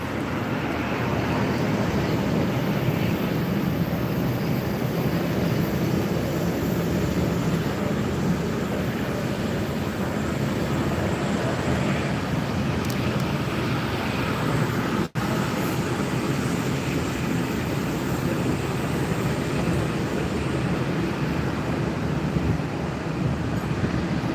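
Jet2 airliner taxiing at Gran Canaria Airport, a steady broadband engine rumble and whine that holds at an even level throughout, with a faint click partway through.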